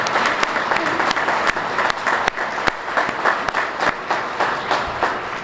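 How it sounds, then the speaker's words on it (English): An audience at a military briefing applauds, a steady round of clapping with sharp individual claps standing out near the microphone, continuing for several seconds. "So let's give Lee a big round of applause"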